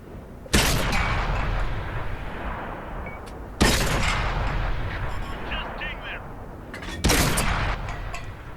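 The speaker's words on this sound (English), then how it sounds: "See there, a couple of bounces again with standard rounds." Tank shells in World of Tanks slam against heavy armour in three loud, booming impacts a few seconds apart. Each hit is sharp and explosive, then trails off into a long rumble.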